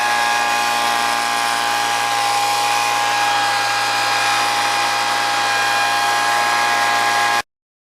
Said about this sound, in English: put a blower on it, and dry it up.